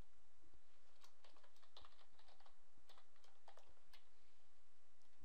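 Computer keyboard typing heard up close, a steady run of quick, irregular key clicks against a quiet background, with no talking, as a menu name is entered for a blog footer.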